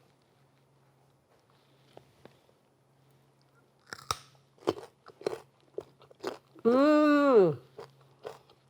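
Raw carrot dipped in a creamy everything bagel dip bitten and chewed close up, a series of loud crisp crunches with a brief hum of approval between bites.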